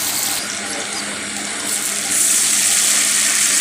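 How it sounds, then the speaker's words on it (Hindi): Water is added to browned onions and chopped garlic frying in a pan for baingan bharta, heard as a steady hissing pour that grows louder partway through, with no talking. "इसके बाद थोड़ा इसमें पानी ऐड कर देंगे"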